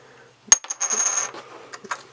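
Pokémon trading card game coins from a Sun & Moon special edition pack handled up close, with a sharp metallic clink followed by a brief cluster of clattering and sliding, then a couple of lighter taps.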